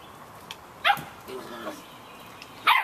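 Samoyed puppies outdoors in the rain give two short, sharp yips about two seconds apart, with softer whimpering between them and a voice speaking quietly underneath.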